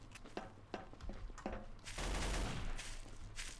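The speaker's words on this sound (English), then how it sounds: "I've just been shot by someone" Gunshots in Trouble in Terrorist Town: scattered sharp shots at first, then a louder, denser volley of rapid fire that keeps going to the end.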